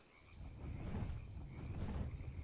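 A couple of frogs croak steadily in a low, continuous video game ambient bed in Ark: Survival Evolved on the Crystal Isles map, with a faint airy hiss above and no voices.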